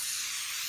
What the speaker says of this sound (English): just spray a little on there